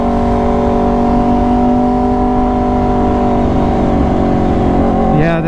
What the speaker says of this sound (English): yeah, the sound of this bike is insane.